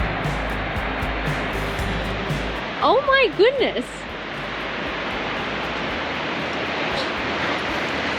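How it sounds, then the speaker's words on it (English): Waterfall at Fish Creek Falls heard as a steady, broad roar of rushing water that fills the whole scene, with a short exclaiming voice rising briefly over it. "Just got our first glimpse of the waterfall."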